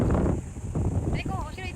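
Wind blowing while walking outdoors in Manila, a loud low rumbling buffet across the microphone, with a brief faint high whistling tone near the end and no clear talk.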